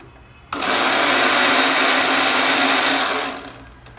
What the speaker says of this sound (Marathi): आता ह्याला मस्त पैकी असं मिक्सरला फिरवून घ्यायचंय